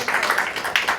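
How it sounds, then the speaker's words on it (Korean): A church congregation claps during a Sunday worship service, a short, fairly even patter of applause heard at moderate distance. "우리 다시 한번 박수를 격려하겠습니다"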